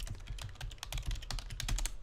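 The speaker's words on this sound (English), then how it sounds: "And I keep typing all these commands wrong." Fast, steady clatter of keys on a computer keyboard as commands are typed, close and fairly quiet, with irregular bursts of keystrokes and no voices.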